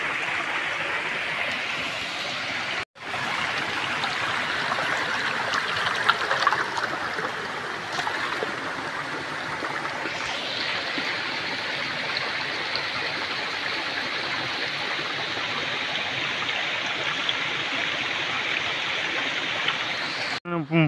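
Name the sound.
waterfall, rushing water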